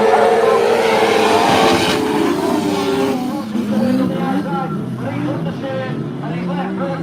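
Racing cars scream around a circuit at a national championship in York, engines rising and falling in pitch as they pass near and then fade, with a commentator talking over the roar.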